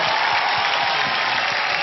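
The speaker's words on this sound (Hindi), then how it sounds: "प्लीज आइए, जोरदार तालियां।" Steady audience applause on a televised talent show stage, a continuous wash of clapping at moderate loudness with music-like low thumps underneath.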